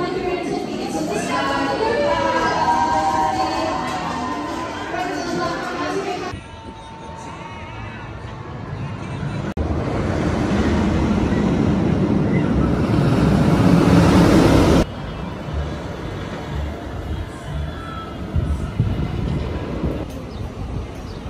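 Millennium Force roller coaster at Cedar Point rushing along its track, a loud roaring rumble with changing wind noise and clattering, with riders' voices and screams mixed in.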